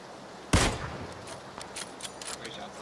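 A sniper rifle fires in a shooting video game, a single loud sharp crack followed by fainter scattered gunfire and clatter in the background.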